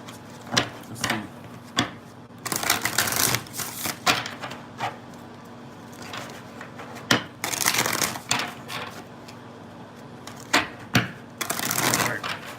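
Tarot cards being shuffled during a reading, heard as irregular bursts of crisp riffling and slapping with short pauses between them, close and moderately loud, no talking.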